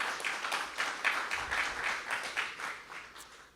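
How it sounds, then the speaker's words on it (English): Audience applause at a museum gallery dedication for a mineral collection: steady clapping from a crowd that holds for about three seconds, then starts to taper off. "Let's give them another round of applause."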